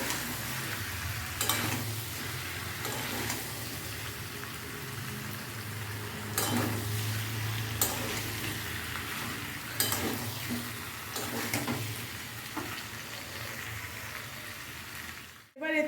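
Fried prawns and taro root are stirred in a frying pan, giving a steady close sizzle with repeated scraping strokes of the spoon throughout, ending in a short clatter.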